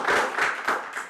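A short burst of audience clapping at an Indonesian film talk event, a few swelling waves of hands lasting just over a second.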